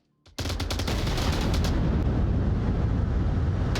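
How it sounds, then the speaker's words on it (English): Sustained burst of gunfire in the VR shooter Onward during a competitive match, loud and continuous after a brief onset, dense and rapid with no talk. "Gunshots ringing out from Geek"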